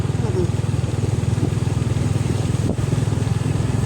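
A small motorcycle engine runs steadily up close beside a village pond, a low rapid putter with a brief dip near the end, continuous throughout.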